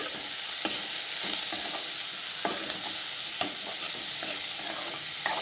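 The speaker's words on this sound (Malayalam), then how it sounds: "നന്നായി ഇളക്കാം" Bitter gourd stir-fry (thoran) sizzling in a pan while a spoon stirs it, with a soft continuous fry and occasional scraping clinks of the spoon against the pan, no voices.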